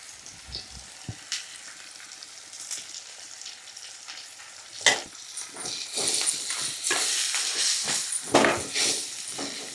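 Coriander and curry leaves fry in hot oil for a paneer curry, giving a close crackling sizzle with sharp pops and bursts that grow louder and denser toward the end.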